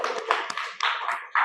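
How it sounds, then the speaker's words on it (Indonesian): Students in a classroom applauding, a burst of uneven clapping from a small group, close and fairly loud, lasting a second or so. "Tepuk tangan untuk semuanya."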